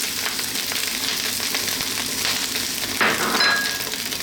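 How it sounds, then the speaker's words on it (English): Lightly beaten eggs frying in a pan with chicken fried rice, a continuous dense sizzle that swells briefly near the end, with a faint scrape of a utensil and no talking. "And now we're going to introduce our eggs."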